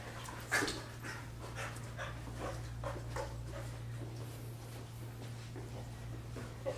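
Dogs pant and breathe in quick bursts during play, close by, with a few soft whimpering sounds over a constant low hum.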